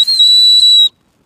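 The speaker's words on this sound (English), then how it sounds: "That's the whistle." One sharp, piercing blast from a survival whistle, loud and steady, cuts off abruptly after under a second.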